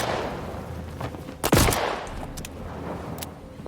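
Gunfire in the space-train game Voidtrain: a single loud, close shot with a sharp crack and a short booming tail, followed by a few fainter scattered impacts and rattles over steady background rumble.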